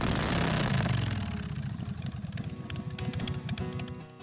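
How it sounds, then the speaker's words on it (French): A motorcycle engine starts up and keeps running, with a steady low rumble of mid-pitched pulses that settles into an uneven idle, close and fairly loud, with no talk. "tordez la poignée, on part la machine!"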